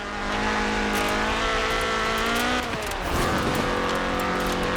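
Ford RS 1800 rally car engine in Forza Horizon 4, a loud buzzing engine held at high revs that drops and then climbs again in pitch, continuous throughout.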